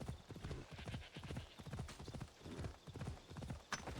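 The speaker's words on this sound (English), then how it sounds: "There you are. That's my horse." Horse hooves clip-clop in a steady, even rhythm close by, the beats running through the whole stretch with no talk over them.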